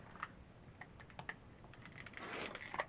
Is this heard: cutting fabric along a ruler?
yes